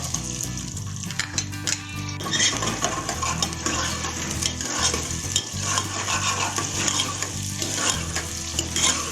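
Onions frying in hot oil in a pan for a chicken and carrot curry, loud continuous sizzling close up with frequent clanks of a spoon stirring against metal, no talking.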